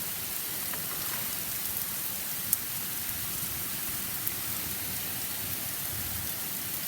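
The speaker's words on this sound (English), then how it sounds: "And it's raining quite fast. Wow. It's raining pretty hard." Heavy rain falling steadily, a dense continuous hiss of drops with a few sharper isolated taps, no voices.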